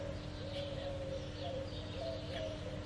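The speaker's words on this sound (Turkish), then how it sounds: "Ay ne kadar güzel kuşlar ötüyor." Birds sing outdoors in soft, scattered chirps and short calls over a faint steady background hum, distant and quiet.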